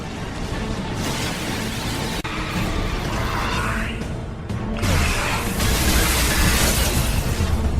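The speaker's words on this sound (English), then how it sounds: "Firing anti-ship batteries at Collector vessel." Anti-ship batteries firing on a Collector vessel in the Mass Effect 2 video game, heavy booming blasts and rushing whooshes that swell into a loud continuous roar, with no speech heard.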